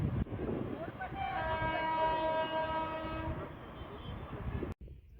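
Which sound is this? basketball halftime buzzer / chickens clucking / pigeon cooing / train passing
train passing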